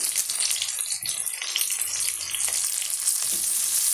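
Curry leaves spit and sizzle in hot oil alongside softening onions for a ladies finger tamarind curry, a steady loud crackling hiss lasting throughout with no voices.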